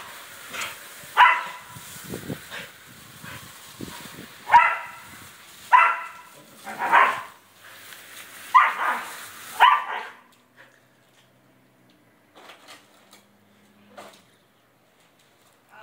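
A dog barks in a series of sharp, loud woofs, several in the first ten seconds, then falls mostly quiet with a few faint sounds.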